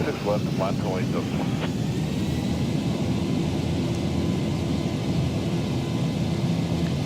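Boeing 737-800 jet engines spool up to takeoff thrust on the runway in the X-Plane 12 flight simulator, a steady broad roar that fills the whole stretch, with a voice speaking over it briefly at the start.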